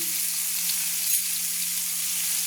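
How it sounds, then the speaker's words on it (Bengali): Potato pieces seasoned with salt and turmeric fry in hot oil, giving a dense, even sizzle that holds steady and close for the whole short stretch, with no voices. "আলুটাকে আমি নেড়ে নিচ্ছি ভালো করে ভাজার জন্য"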